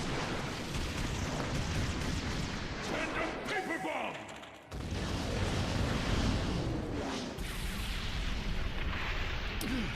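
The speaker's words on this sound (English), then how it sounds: "It's like paper bombs that keep duplicating and just keep exploding." Paper bomb explosions in the Naruto Storm 4 video game, a dense, continuous barrage of booming blasts that keep going almost without pause across the whole stretch, with one brief dip in the middle.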